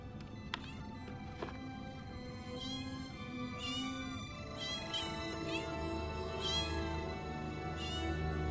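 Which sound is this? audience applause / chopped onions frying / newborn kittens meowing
newborn kittens meowing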